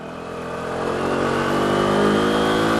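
Engine of a borrowed motorcycle on a commute, close and continuous, its tone climbing steadily as the rider accelerates through the gears without talk.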